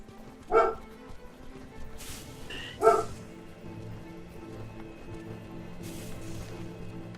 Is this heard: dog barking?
yes